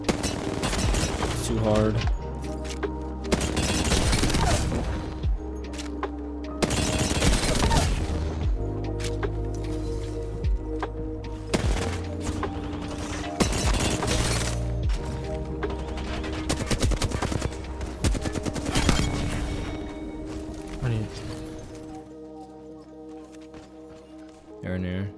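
Rapid gunfire from a Flatline rifle in a fast-paced video game shootout, loud bursts recurring throughout alongside other game effects, with a player talking over the action.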